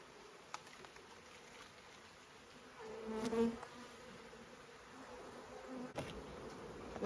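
Honey bees buzz steadily around a hive box, a continuous drone that swells now and then as individual bees pass close.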